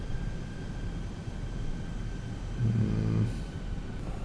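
Fixed-wing airplane engine drone in the X-Plane flight simulator game, a steady continuous hum filling the clip with a slightly louder swell near the end.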